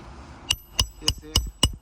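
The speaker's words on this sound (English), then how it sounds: "That's a new nail we're gonna use, and right now we're gonna start nailing it" A new nail is hammered into worn roof shingles shedding granules, five sharp close strikes spaced evenly about a third of a second apart, each a crisp metallic knock with a ringing tail.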